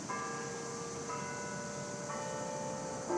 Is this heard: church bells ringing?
yes